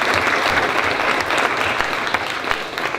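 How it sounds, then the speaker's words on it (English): An audience at a panel event applauds, steady dense clapping from many hands throughout, loud and continuous without a break. "Give them a nice round of applause."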